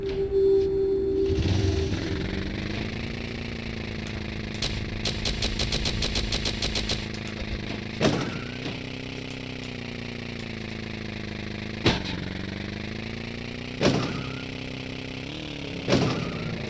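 A motorcycle engine in the video game Tomb Raider, revving up from a start and then idling steadily, with sharp throttle blips every few seconds, close and loud.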